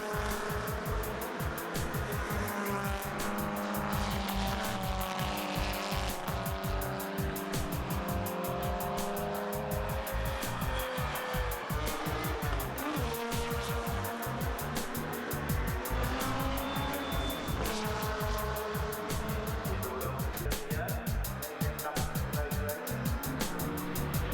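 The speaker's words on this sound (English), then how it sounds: "An issue with the car, it's misfiring at high revs" A GT race car at Magny-Cours screams continuously at high revs on track with an engine misfire, its loud droning note shifting through gears with occasional tire squeal and no break in the noise.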